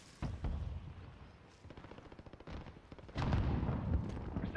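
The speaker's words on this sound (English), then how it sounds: "Receiving hostile fire." Video game gunfire crackles in rapid bursts and rattling automatic volleys, growing denser and louder in the last second and a half against a low rumbling battlefield background.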